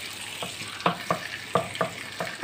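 Butter melting in oil in a pan for butter chicken, giving a steady soft sizzle with a handful of light scraping and stirring taps at intervals, no voices.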